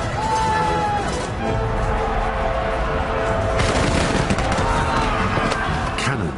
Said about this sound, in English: Cannons and arquebuses, weapons introduced by Jesuit missionaries, played their part.